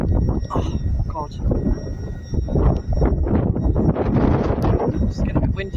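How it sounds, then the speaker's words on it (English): Gusty wind buffets the microphone outdoors at a Peterborough railway, a rough, steady low rumble that swells and fades beneath faint voices. "It's getting a bit windy again."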